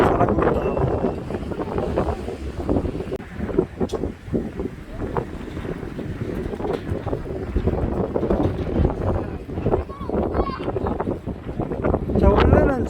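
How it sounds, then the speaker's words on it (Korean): Strong wind buffets the microphone in a continuous roaring rumble at Haeundae Mipo beach in Busan on a crowded day, with a voice speaking over the gusts. "바람도 너무 많이 불고"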